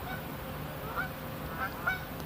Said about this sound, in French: Il y a des oies.